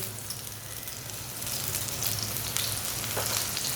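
Paratha sizzling in oil on a hot pan, a dense crackling fry that runs without a break and grows slightly louder and busier partway through, with a few sharper pops near the end.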